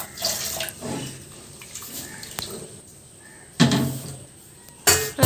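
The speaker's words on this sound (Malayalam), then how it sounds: "ആവശ്യത്തിന് വെള്ളം ഒഴിച്ച് കൊടുത്തിട്ട്" Water is poured into a pan of curry seasoned with salt, chili powder and turmeric, giving a soft running splash with two brief louder gushes near the end and no voices.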